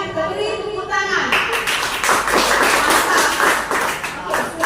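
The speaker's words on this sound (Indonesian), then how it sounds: "Kita beri tepuk tangan" A class of students claps for a group after their economics presentation; a voice speaks first, then brisk, close clapping from a small group rises and continues with talk mixed in.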